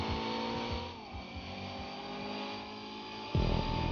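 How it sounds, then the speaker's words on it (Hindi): A race car in Grand Theft Auto V speeds along, its engine droning steadily for several seconds, then a louder, harsher burst of engine noise near the end. "भाई का गाड़ी बहुत स्पीड जा रहा है।"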